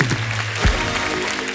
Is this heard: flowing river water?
no